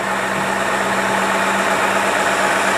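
A car engine fitted with a Holley four-barrel carburetor with electric choke idles steadily, a close, even low hum with a constant drone and no change in pace across the short stretch.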